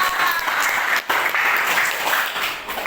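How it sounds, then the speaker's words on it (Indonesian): Classmates in a school classroom clap for a student, a loud, continuous burst of many hands clapping together, close and sustained with a brief dip midway. "dari tepuk tangan"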